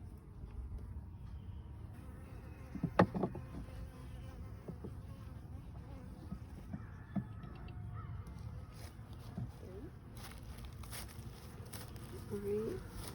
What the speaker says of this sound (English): so I got a little bee in there.